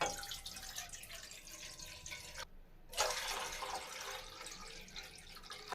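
Two glasses of water are poured into a kadai to cook Maggi noodles, a faint splashing trickle that stops briefly midway and then resumes, close by in a quiet kitchen.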